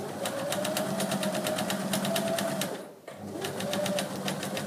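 A sewing machine stitching an open seam runs in a fast steady mechanical whir with rapid needle clatter, pausing briefly for a pivot before starting up again close by.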